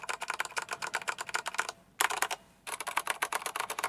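Fast, crisp clacking of typing on a mechanical keyboard with Keychron brown switches, a close run of rapid keystrokes broken by two short pauses.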